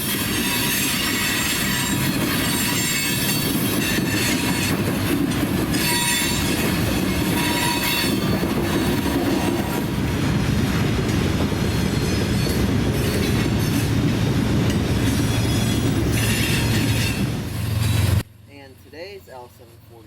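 A long, heavy loaded CSX freight train with hopper cars rolls past close by, a loud continuous roar of wheels and rail noise with squealing, holding steady for about eighteen seconds before cutting off abruptly.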